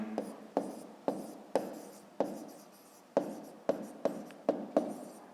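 A pen writes a math answer by hand on paper, with a series of about a dozen sharp tapping strokes and short scratchy scrapes in an uneven rhythm, close and clear.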